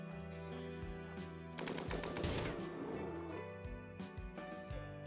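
Automatic gunfire crackles in the colony game RimWorld, a dense burst of rapid shots over steady background music, loudest in the middle and easing off toward the end.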